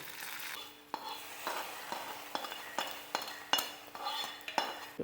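Red chillies and curry leaves crackle in hot oil for a sweet Onam pineapple pachadi, with a steady sizzle broken by sharp stirring clinks of a spoon against the pan, roughly once a second.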